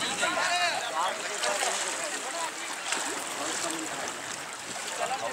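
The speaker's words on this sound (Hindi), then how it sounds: "नाव से पानी कट के निकल रहा है, करंट देखिए पानी का, जल का प्रवाह देखिए" A boat slices through river water at the Sangam, the Ganga confluence, with a steady, close rush and splash of water running continuously, and voices faintly in the background.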